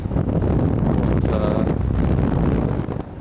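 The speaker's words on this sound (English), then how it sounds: "As you can hear, it's very windy and it's also very cold" Strong, cold winter wind in Canberra buffets the microphone in a loud continuous roar that rumbles low throughout and eases slightly at the end.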